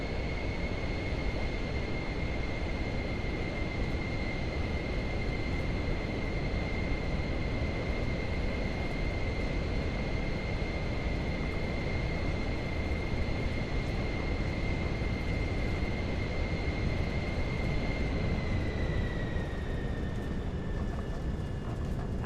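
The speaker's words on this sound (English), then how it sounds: "Once you're lined up, smooth throttle forward and let's get airborne." Pilatus PC-24 business jet taking off in Microsoft Flight Simulator 2024: a steady, loud broadband engine roar with a sustained high whine that holds level, then sags slightly near the end, with no talk over it.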